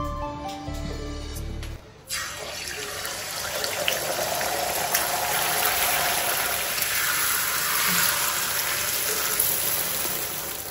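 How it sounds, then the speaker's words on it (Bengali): An egg fries in a home kitchen pan, giving a steady, fairly loud broadband sizzle with a soft crackle that runs unbroken for about nine seconds after a brief low hum at the start. "ডিম ভাজা শেষ"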